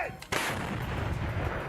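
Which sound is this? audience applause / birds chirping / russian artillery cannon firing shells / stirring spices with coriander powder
russian artillery cannon firing shells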